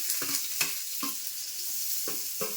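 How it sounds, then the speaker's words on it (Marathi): Onion frying in a pan after a pinch of asafoetida, stirred until soft for stuffed capsicum. A continuous bright sizzle runs under several distinct spoon scrapes and stirs, spaced irregularly, close and fairly loud with no voices. "कांदा मस्त असा परतून घ्यायचा आहे थोडा मऊ होईपर्यंत"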